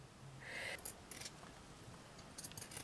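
Scissors snip through pink paper for a handmade shabby chic swan and bow craft, a few soft, close cuts in short bursts against a quiet room.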